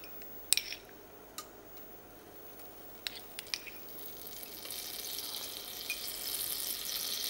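Butter melting in a saucepan (a russe) for a fresh vegetable parmentier soup: faint soft sizzling and popping that thickens gradually, with a few light clinks of utensil on metal.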